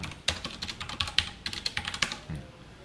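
Rapid clicks and clacks of keys being typed on a computer keyboard while Java code is entered, an uneven rhythm of close, crisp keystrokes with short pauses and no talk.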